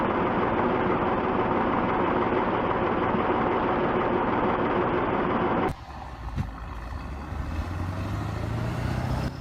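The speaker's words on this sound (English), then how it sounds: "on the winter roads of northern Russia, too, there is always the silhouette of a hard-working Ural truck." Ural truck engine on a snowy winter road in northern Russia, a loud, dense rumble that cuts abruptly into a lower running drone with a rising tone, no talk.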